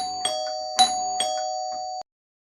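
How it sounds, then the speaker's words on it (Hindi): A household doorbell chimes near and clear, three ringing ding-dong tones in quick succession with a lingering ring before it cuts off to silence. "कि तभी दरवाजे की घंटी बजती है।"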